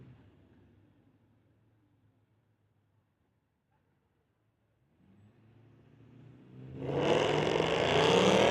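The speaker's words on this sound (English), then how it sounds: "We've got a Mercedes versus a Chev, and what a great smoke show we've got on the pit side." A Mercedes and a Chevrolet at a street-legal drag strip, a low engine rumble fading to quiet before a rising roar builds into a loud burnout with heavy hiss and smoke-show intensity at the end.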